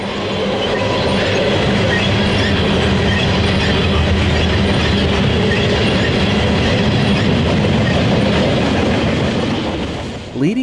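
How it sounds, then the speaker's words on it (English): Norfolk Southern hotshot intermodal freight train 23Z, led by AC44C6M locomotive 4072, rolls past on main track one with a loud, steady roar of wheels and cars, constant rumble and clatter throughout, with no voices. "In the distance, the headlight of hotshot intermodal train 23Z could be seen over main track 1."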